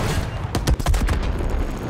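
Loud, dense rocket fire and explosions in a video game tank battle, a rapid series of booming blasts over continuous rumbling combat noise.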